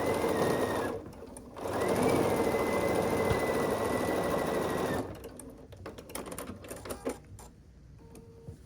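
Sewing machine stitching quarter-inch seams on quilt pieces, a steady whirring run that pauses briefly near the start, then stops partway through, leaving soft fabric handling and light clicks.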